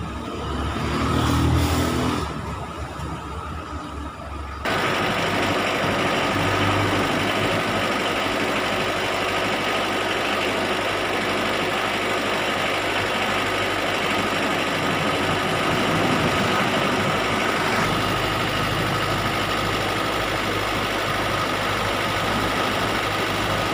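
A repaired car air-conditioning blower motor runs steadily and loudly, pushing a strong rush of air as a constant broadband whoosh with a faint engine hum beneath, after a brief rougher start.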